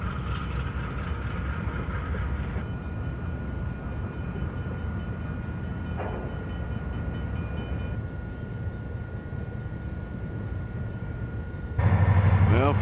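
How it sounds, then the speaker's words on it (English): A Soo Line train on the High Line near Santa Fe Junction, Kansas City, rumbles past with a steady low roar and faint rail clatter, continuous throughout, with a brief voice near the end. "another train on the High Line"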